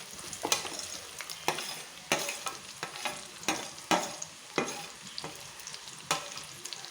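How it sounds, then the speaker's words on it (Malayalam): Chopped onions sauteing in hot oil left over from frying chicken for a chicken curry, giving a steady sizzle broken by repeated sharp scraping stir strokes, close and fairly loud, with no talking. "നമുക്കതിനകത്തേക്ക് സവാള ഇട്ട് കൊടുക്കാം."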